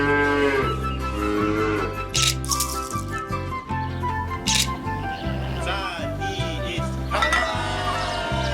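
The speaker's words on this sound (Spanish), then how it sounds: "La vaca." A cow moos over a steady musical backing, its lowing calls rising through the mix at intervals, fairly prominent but blended with the music.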